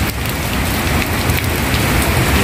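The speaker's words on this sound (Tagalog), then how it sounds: "Ang lakas na po dito ng ulan." Heavy rain pours down in Region 3 in the Philippines, near fishermen and their payaw, a loud, dense, unbroken hiss of drops hitting surfaces with no voices.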